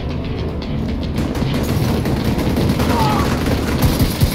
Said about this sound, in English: take my explosive rounds to the face